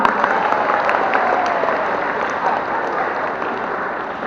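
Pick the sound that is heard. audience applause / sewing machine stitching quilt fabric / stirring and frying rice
audience applause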